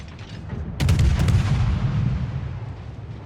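A Shimakaze destroyer fires its naval guns in World of Warships: a sharp close blast followed by a deep rumbling boom and rolling echo over steady background engine and water noise.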